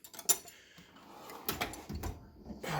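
A 44-inch US General tool chest drawer slides open with a metallic rattle and a few clinks of tools shifting inside, close by.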